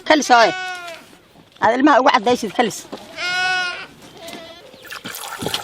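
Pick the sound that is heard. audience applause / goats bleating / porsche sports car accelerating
goats bleating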